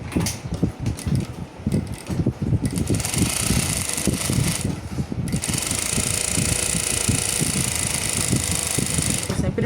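Sewing machine running in bursts and then steadily while stitching a traditional toiletry bag, a close, busy mechanical whir with rhythmic clatter and short pauses.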